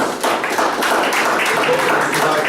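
An audience at an award presentation breaks into a steady round of applause, a dense wash of many hands clapping that starts sharply and holds loud and even for a couple of seconds.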